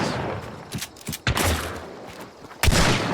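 Gunshots in the shooter game Hunt: Showdown, a few loud sharp reports spaced irregularly, each with a booming tail, over a background of game ambience.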